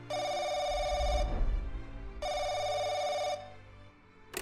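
Telephone in The Crooked Man video game rings loud and close in two long electronic bursts separated by a short pause.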